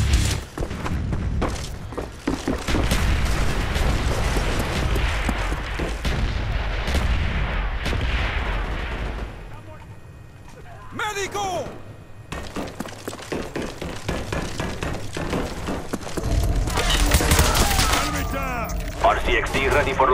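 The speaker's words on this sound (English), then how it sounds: "Friendly mortars inbound." Mortar strikes land in a Call of Duty Black Ops team deathmatch, a run of heavy thumping blasts and crackling impacts with brief lulls, mixed with game gunfire and effects.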